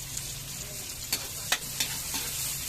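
Garlic and onion sauté in a pan for mussel adobo, a soft steady sizzle broken by a few sharp scraping stirs of a utensil against the pan, with no talking.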